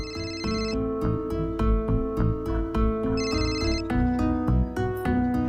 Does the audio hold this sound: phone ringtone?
yes